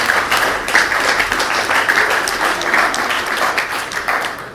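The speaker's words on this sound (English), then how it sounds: "let's give Roger a round of applause for always doing our video." Audience applause at an evening tech meetup, steady dense clapping from a crowd that holds at an even level throughout, with no voices over it.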